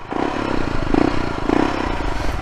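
A borrowed motorcycle rumbles along on a short ride, a steady, close engine drone with wind buffeting and light mechanical clatter, swelling briefly twice.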